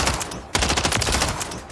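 Rapid automatic gunfire from a video game weapon build with iron sights, firing bursts at long-range targets; dense, continuous loud shots with a brief pause before resuming.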